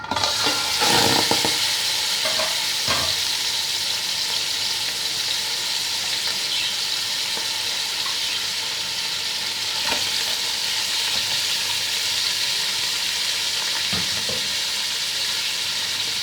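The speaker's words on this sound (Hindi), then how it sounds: "इसमें अभी हम ये चिकन को फ्राई करेंगे।" Chicken fries in a few spoonfuls of oil in a pot, giving a loud, steady sizzle and crackle with occasional clinks and scrapes of stirring.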